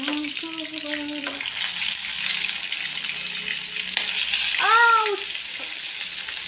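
Fish frying in a pan gives a steady, close sizzle throughout, with a few clear tonal chirps and whistles from somewhere nearby over the crackle.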